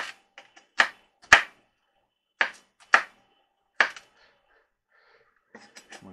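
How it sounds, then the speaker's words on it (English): Knife chopping meatloaf ingredients with salt on a cutting board: a handful of sharp, separate thwacks in an uneven rhythm, close and crisp against a quiet background, with a few lighter taps near the end. "start chopping."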